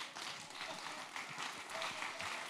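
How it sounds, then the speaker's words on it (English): Applause from a theatre audience at a live evening with comedian John Cleese, quiet and distant, with a few faint voices mixed into the clapping. "Round of applause"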